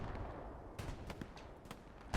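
Distant explosions and scattered gunfire in the Hell Let Loose battlefield shooter, a few sharp muffled booms and cracks rising over a low rumbling background, the last one nearer and heavier.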